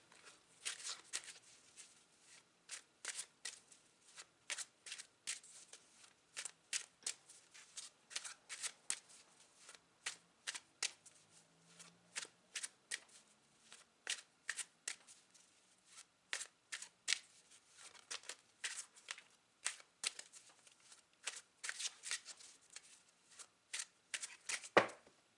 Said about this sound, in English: Clarify the 5 of Coins.